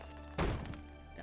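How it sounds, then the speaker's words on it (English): A single chunky axe strike lands on a tree in a puzzle adventure game, a short dull thunk with a brief crackling tail over a faint background hum. "I have the axe, so I can now cut down this tree."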